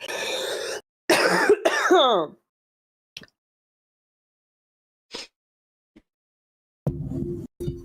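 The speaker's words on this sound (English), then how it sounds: "Oh, I wish this cough would go away." Someone nearby coughs in a few short harsh bursts early on, then long quiet stretches broken by tiny faint sounds, with a low murmur of noise rising near the end.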